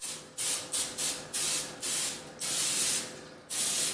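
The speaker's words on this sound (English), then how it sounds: "I'm just gonna spray it with cooking spray" Cooking spray hisses out onto a baking pan in a run of short, even bursts, about eight quick sprays in a steady rhythm, close and loud.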